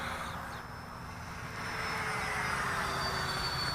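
An FMS 70mm Yak-130 RC model jet flies past, its electric ducted-fan whine forming a steady, moderately loud hiss that swells slightly partway through, with faint tonal lines riding over broadband rushing noise.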